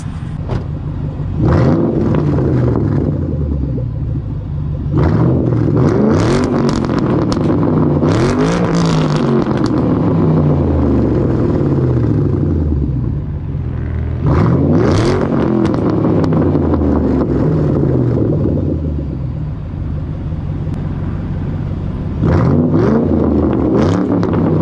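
A 2013 Shelby GT500 with a 5.8 liter engine revs repeatedly, with loud, close bursts of throttle rising and falling in pitch over a steady idle rumble, with no talk.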